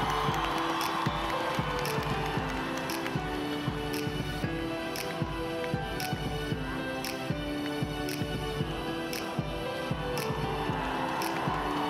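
Arena crowd at a figure skating men's short program in Almaty, cheering and murmuring steadily throughout as Denis Ten performs, a broad continuous roar beneath music with scattered sharper claps and shouts.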